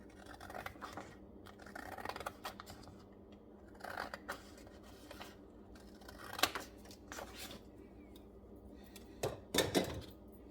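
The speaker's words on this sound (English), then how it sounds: "And then I'm going to cut this little edge off." Scissors cutting a small edge off paper in a planner: faint, close snips and scratchy paper rustles come in scattered bursts, with a few sharper cuts standing out.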